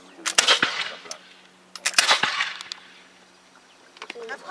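Musket shots fired by a historical reenactment squad outdoors at Fort George, two sharp loud cracks each followed by a rolling echo, with a fainter report near the end.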